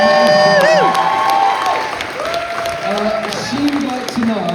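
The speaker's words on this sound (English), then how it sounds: "Go round of applause for Sarah in the cloakroom as well." Convention audience at a Red Dwarf panel applauding and cheering for a cloakroom volunteer, a dense roomful of clapping with some whoops, steady and loud throughout with a few voices rising above it.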